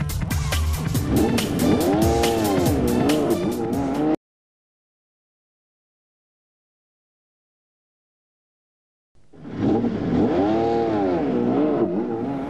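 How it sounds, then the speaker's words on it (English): A Honda S2000 and a BMW M3 in a street race, loud engines revving and accelerating hard with pitch sweeping up through the gears, heard in two bursts separated by several seconds of silence. "it's a battle for third place as Justin in his Honda S2000 takes on Blythe in his BMW M3"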